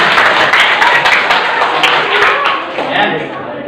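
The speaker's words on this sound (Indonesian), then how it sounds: "Yuk tepuk tangan buat kita semua" Students in a classroom clap together in a dense, sustained round of applause that stays loud and close throughout, tapering only slightly near the end.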